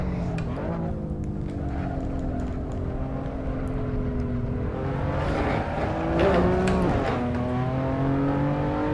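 A BMW M4 on semi-slick tyres lapping a race track, its engine note rising and falling through gear changes as it accelerates and brakes, loud and close from inside the car.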